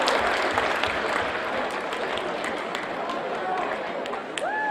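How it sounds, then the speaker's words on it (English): Audience applause in a large room for a talk on strategy for success, a broad dense wash of clapping that tapers near the end while speech-like sound mixes in underneath. "give yourselves a round of applause and take a seat."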